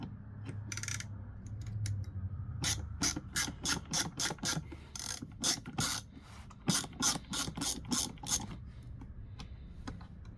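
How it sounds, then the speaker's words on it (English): Screw being backed out of a Bissell Little Green portable carpet cleaner, heard as a close, quiet series of rapid clicking ratchet-like ticks in uneven bursts, with brief pauses between turns. "pretty much the last thing we have to do is back out this screw."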